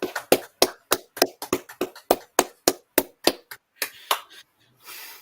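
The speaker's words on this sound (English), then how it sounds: "Let's do a 5-second applause for Bukayo Saka" A small group in a studio claps steadily for about five seconds, sharp close hand claps in a quick uneven rhythm that thin out toward the end, with no talk over them.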